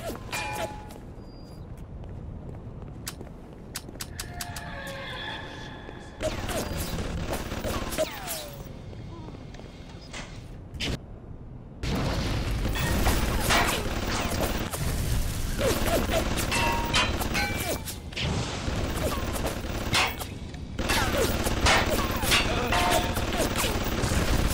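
Gunfire from the video game BioShock, with repeated shots and bursts clattering through game ambience, growing louder and denser in the second half amid mechanical noises and footsteps.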